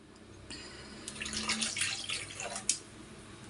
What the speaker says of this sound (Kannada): ಇದಕ್ಕೊಂದು ಸ್ವಲ್ಪ ನಾವು ನೀರು ಹಾಕ್ಕೋಬೇಕು.